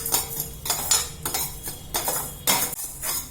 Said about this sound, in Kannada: ಇದನ್ನ ಹುರ್ಕೊಳ್ಳಿ, ಸ್ಟವ್ ಕಮ್ಮಿ ಇಟ್ಕೊಂಡು ಹುರ್ಕೊಳ್ಳಿ.